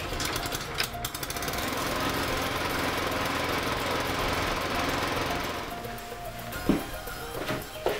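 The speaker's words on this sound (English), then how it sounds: "Just going to run this engine, make it warm, it will help the oil drain." A Honda lawnmower engine runs steadily while warming up, with a continuous, dense, rattling drone close by. A few clanks sound near the end.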